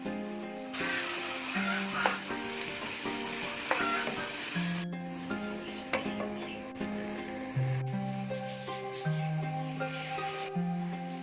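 Food sizzles and fries in a pan, with a spoon stirring and scraping through it in steady strokes, close and continuous, while music plays over it.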